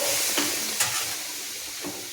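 Vegetables for vegetarian khichuri are stirred in a pan just after a little water goes in, giving a steady close hiss and sizzle with a few soft scraping clicks from the spoon.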